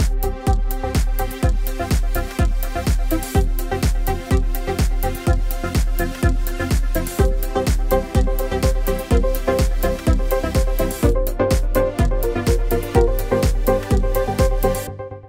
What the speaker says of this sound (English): The first example is a typical EDM track.